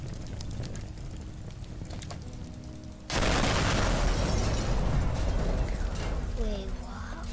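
Bombs going off in the destruction game Teardown: a sudden loud blast at about three seconds gives way to a dense, sustained roar of rumbling debris, with faint tonal game sounds near the end.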